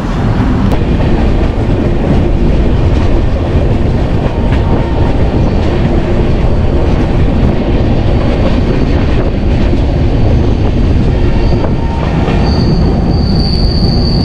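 The Donyi Polo Express passenger train arrives, rumbling loudly and close by, with rolling wheels, clattering cars and a high metallic squeal of brakes near the end.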